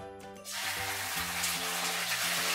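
Ginger garlic paste hits a pan of browned onions and breaks into a steady, close sizzle that holds strong and even throughout, with no voices.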